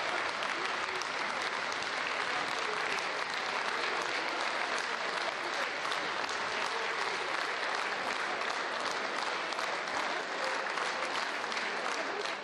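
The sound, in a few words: parliament deputies applauding the prime minister's report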